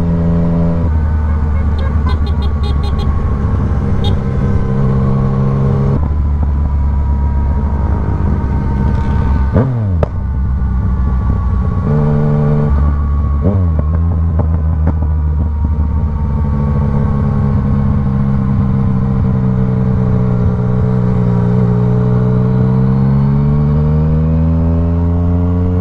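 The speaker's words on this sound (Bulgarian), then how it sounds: "моторчето е без тапата, ама вие сигурно сте чули" A loud, raw motorcycle engine without its exhaust baffle revs and shifts through gears, pitch rising and dropping repeatedly, close and continuous with no talking.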